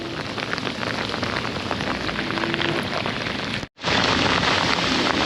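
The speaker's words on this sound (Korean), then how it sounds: "비가 그냥 끝이질 않고 계속 오네" Heavy rain pours down steadily at close range on a boat during a fishing trip, a dense, continuous hiss of drops striking surfaces, briefly cut by a momentary dropout before resuming just as hard.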